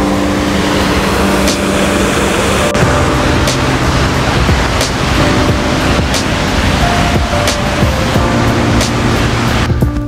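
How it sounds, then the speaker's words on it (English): A waterfall pours beside an abandoned building, giving a loud, continuous, broad rush heard from close by, with steady tones and a few sharp knocks over the roar. "So this is the waterfall that sits beside it."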